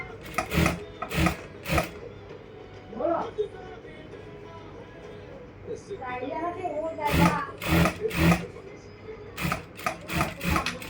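A domestic sewing machine stitching fabric in short whirring bursts, starting and stopping repeatedly, with someone talking between and over the runs.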